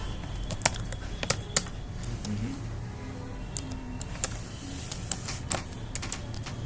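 Keys clatter in scattered, uneven bursts of typing on a computer keyboard while someone writes text in Microsoft Word, the clicks close and crisp over a quiet room hum.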